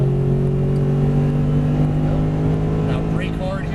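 Mercedes-Benz SLS AMG accelerating on a Las Vegas race track, a loud, close engine droning steadily with strong low harmonics while someone talks.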